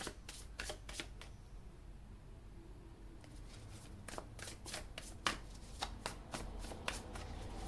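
Tarot cards are shuffled by hand in close, crisp bursts of riffling flutter, with a short pause early on before several more quick rounds of rapid card slaps and riffles.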